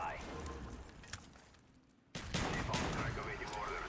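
Shotgun fire in Call of Duty: Black Ops, a sharp blast breaking in after a quieter stretch, followed by dense, loud game noise and further shots, with someone talking over it.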